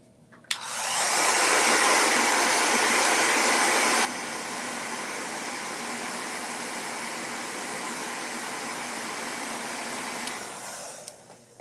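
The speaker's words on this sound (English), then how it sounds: "Let me dry that real quick." A hair dryer blows on a freshly painted craft tray, switching on with a click into a loud steady whoosh, dropping to a lower setting after a few seconds, then whirring down and cutting off, close and with no talking.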